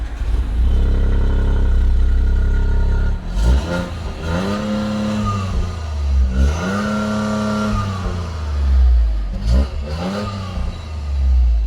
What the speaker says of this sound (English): Down the bottom are some exhaust tips too, but they actually sound pretty awful